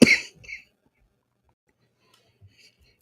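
A single close, loud cough bursts out at the start, followed by a smaller throat sound, then near silence with a couple of faint ticks.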